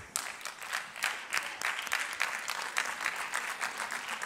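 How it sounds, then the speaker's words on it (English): A church congregation gives a polite, light golf clap after a sermon line, a steady patter of many hands lasting about four seconds at moderate distance with no voices over it. "That's a PGA golf clap right there."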